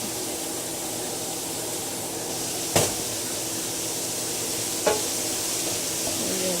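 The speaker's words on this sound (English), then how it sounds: "Stir it all up together" A spoon stirs a cauliflower mix in a sizzling pan, a steady soft fry hiss with two sharp scraping knocks against the pan, no one speaking.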